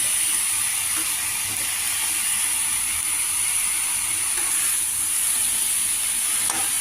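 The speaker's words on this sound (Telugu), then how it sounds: "బాగా ఈ కొబ్బరి పెసరపప్పు అరటి దూట ముక్కలు అంతా బాగా మిక్స్ చేసుకోవాలి" Banana stem curry with coconut and moong dal is stirred in a hot pan, giving a steady close-up sizzle with a continuous bright hiss and faint scraping of the spoon throughout.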